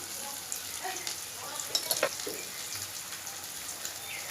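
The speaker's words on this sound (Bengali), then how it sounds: "জিরে গুঁড়া ভালোভাবে মশলাটার সঙ্গে আলুটার সঙ্গে আমি কষিয়ে নেব" Potatoes sauté in a pan with turmeric, chilli, coriander and cumin powders for a chickpea ghugni: a continuous crackling sizzle broken by scattered clicks and scrapes of stirring, close and moderately loud, with no talk.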